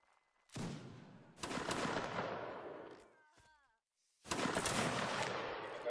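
Massed musket volleys in Mount and Blade Warband Napoleonic Wars crack out as loud rolling bursts, each decaying slowly, with a brief quiet gap and a voice between volleys.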